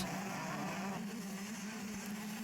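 A pack of 125cc motocross bikes races away after the start at an outdoor track, engines droning and revving together at a distance, a dense steady roar with shifting pitch.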